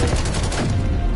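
Pistol gunfire in Call of Duty: Cold War, a loud, dense burst of shots packed into about a second, alone without talk.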